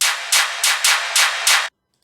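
A drum loop from a drill drum kit, bright noisy hi-hat or snare-like bursts repeating six times in a fast even rhythm, loud and up front, then cutting off abruptly.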